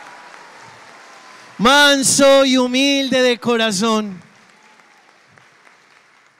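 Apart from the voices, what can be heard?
congregation applauding at Palm Sunday Mass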